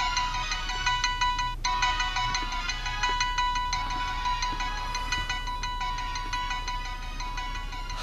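A phone ringtone plays loud and close, a bright repeating electronic melody that cycles through several phrases for the whole stretch, with no voices over it.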